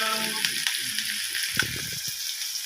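Chilli and bay leaf sizzle steadily in hot oil in a pan, with soft clatters of a spoon stirring them around midway through.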